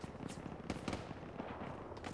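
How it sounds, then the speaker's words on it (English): Heavy ground fire in a military video game, heard as scattered, fairly distant popping shots and short crackling bursts that keep going without a break. "Axe 2, Valkyrie, be advised, taking heavy ground fire"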